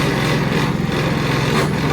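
Predator 3500 inverter generator idling low in eco mode, a steady close engine drone with a faint rattle from sitting on a table, continuous and even throughout.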